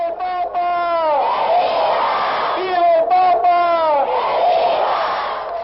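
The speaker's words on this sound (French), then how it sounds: "c'est avec ferveur que la foule de Lima a accueilli Jean-Paul II" A large crowd in Lima, Peru, roars and cheers in welcome of Pope John Paul II, with loud swelling shouts and chanting rising in repeated waves, close and dense.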